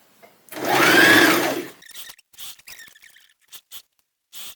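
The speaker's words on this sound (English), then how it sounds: "And just carry on sewing until you finish on the other side." Sewing machine stitching bias tape onto a garment neckline, one loud whirring run of about a second and a half followed by several short stop-start bursts of stitching, close and clear.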